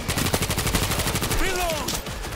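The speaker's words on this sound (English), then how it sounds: "Machine gun in place!" Rapid machine-gun fire from a mounted turret in World War Z: Aftermath, a fast steady burst of loud close shots running throughout, with brief game voices and tonal effects layered over the gunfire.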